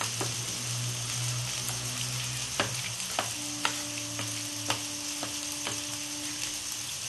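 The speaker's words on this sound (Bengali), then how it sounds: "আমি এবার নিউট্রিলাগুলোকে দিয়ে দেবো। দিয়ে পালং শাকটা আমি একটু চামচ দিয়ে ঘেঁটে দেবো।" Soya chunks and spinach sizzle in a pan while a spoon stirs them into a Bengali-style curry. A steady frying hiss runs throughout, broken by scattered spoon knocks against the pan in the second half.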